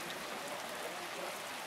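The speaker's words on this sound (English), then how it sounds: "This is what we're looking at. Rain, and look at our backyard." Steady rain falls on a flooded backyard on a hot day, a continuous faint hiss of drops on water and surfaces with no talking.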